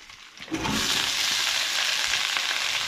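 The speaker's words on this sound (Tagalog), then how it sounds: "Tama natin sa gisa para manuot ang lasa ng sibuyas at bawang dito sa sayote." Chayote sizzles and fries in a pan with onion and garlic, a loud bright hiss that swells after a soft start and holds steady, close up with no voices.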